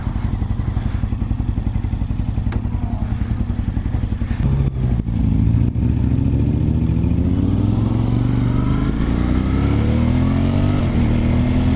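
Suzuki TLR twin-cylinder motorcycle ridden on the road, a loud, steady engine drone that climbs in pitch as it accelerates through the gears, with wind noise throughout and no talk.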